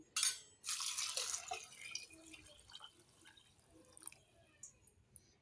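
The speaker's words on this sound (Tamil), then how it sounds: "இப்போ நான் அதையே டபுளாக ஊற்றுறேன் ஆறு டம்ளர் தண்ணியாக" Water pours and splashes into a cooking pot in a steady stream, then tapers to scattered drips and light clinks; no voices.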